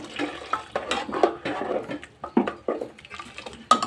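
Water splashes into a cooking pot of sambar in uneven gushes and sloshes, a dozen or so irregular pulses close by, with a faint voice underneath.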